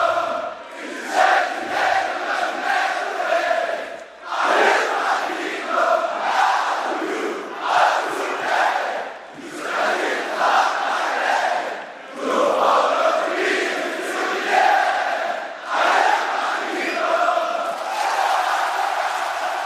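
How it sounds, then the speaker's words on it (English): A packed WWE Backlash 2024 arena crowd sings along to a song in loud, swelling phrases, thousands of voices rising and falling rhythmically with brief dips between lines. "they sang this like it was the national anthem"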